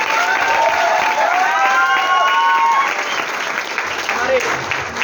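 Loud applause and cheering from an audience at a Mi Lifestyle business gathering, dense clapping throughout with voices calling out and whistling over it, easing slightly toward the end.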